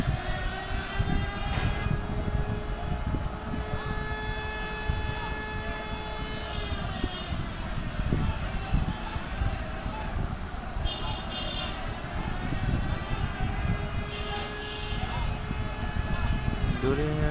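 The passenger launch MV Rahmat departs the Chandpur river ghat with a steady low engine drone and horn-like tonal whines, while someone talks over it.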